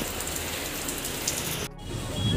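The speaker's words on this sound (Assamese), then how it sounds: "আজিলৈকে দেখা নাই এনেকুৱা বৰষুণ" Dense, steady hiss of rain falling, broken by a short dip as if briefly muffled, then resuming fully.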